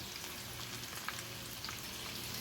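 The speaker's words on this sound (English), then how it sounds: "Hold it by the tail and put it into your frying pan." A soft, steady sizzle of coconut shrimp frying in a pan, gentle crackling throughout with no voices.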